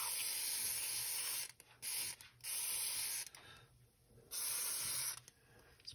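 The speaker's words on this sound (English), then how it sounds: "Spray all the parts down." An aerosol can of Ballistol cleaner sprays onto Ruger Vaquero revolver parts up close, its sharp hiss coming in several bursts of uneven length, with short quiet gaps in between.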